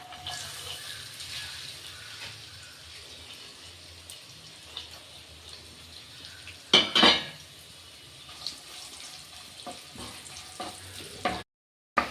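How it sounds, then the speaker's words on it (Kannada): Chopped dry fruits fry in about two spoons of ghee in a pan, a quiet steady sizzle broken by a few sharp clinks of a spoon against metal and louder scraping bursts. "ಫ್ರೈ ಮಾಡ್ಕೊಳ್ಳೋಣ ಈಗ."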